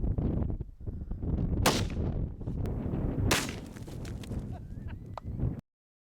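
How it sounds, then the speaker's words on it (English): Two sharp, loud shots from a Marlin 30-30 lever action rifle fired outdoors at a zombie target ring out a couple of seconds apart, with handling noises and brief rustling between them. "So we're going to shoot Wilson today."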